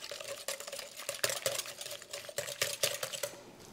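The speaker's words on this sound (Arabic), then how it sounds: "اذا نخلط هذاك الحليب" Quiet, close whisking of milk into eggs and sugar in a bowl for a chocolate cake batter, with a rhythmic clinking and swishing that continues steadily and no talk.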